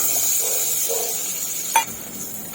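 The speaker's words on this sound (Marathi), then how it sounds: "हे पहा चांगलं असं थोडंसं असं फ्राय करून घ्यायचं आपण" Garlic, ginger, bay leaf, cinnamon and two cloves fry in oil in a pan for a tomato, carrot and beetroot soup, giving a steady close sizzle with a couple of sharp clicks near the end.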